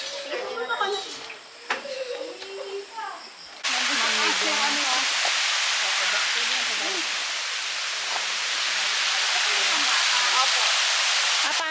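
People talk, then a loud steady spray of water starts like a running shower at a heated riverside pool and hisses on continuously while voices continue underneath.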